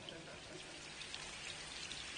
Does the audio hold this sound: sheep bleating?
no